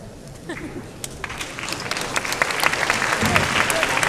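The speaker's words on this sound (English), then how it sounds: "Give a round of applause, please, for the finalists of the World University Debating Championship" An audience at the World University Debating Championship grand final applauds the finalists, clapping that swells from scattered beginnings into a loud, full round, with voices mixed in.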